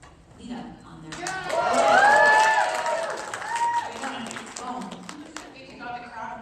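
Convention crowd at Big Texas Comic Con cheering and clapping in approval, a swell of whoops and applause that peaks early then fades into scattered claps and voices.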